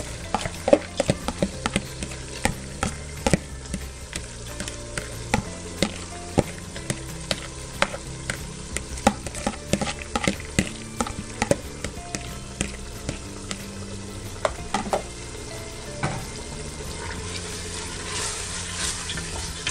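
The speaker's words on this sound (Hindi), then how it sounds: "भून लेते हैं।" Soaked chana dal fries and is stirred in a pan, a steady sizzle broken by frequent sharp scrapes and clinks of the spoon against the pan, with no talking.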